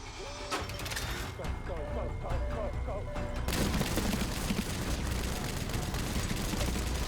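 Sentry cannon gunfire in a Fallout TV episode: several loud rapid bursts that turn into a dense, continuous barrage with rumbling blasts, with a voice briefly heard over the early part.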